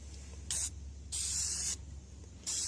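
Three short, light bursts of spray paint hiss onto a door panel, separated by brief pauses, each puff a sharp close-up spurt over a low background hum.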